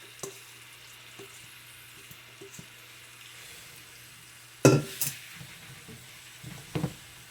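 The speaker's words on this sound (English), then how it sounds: "We're going to let that fry there for about 3 minutes at the most." Goat meat and herbs fry in hot grease in a pot, a faint steady sizzle under small kitchen clatter, then a louder burst of sizzling with clanks as the pot is handled, followed by a few more scrapes.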